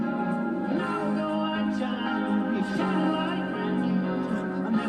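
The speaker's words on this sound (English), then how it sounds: "You can hear the Hammond organ in the back," A Hammond organ sustains a full, steady chord in the background of a dense band mix, the held tone droning on without a break.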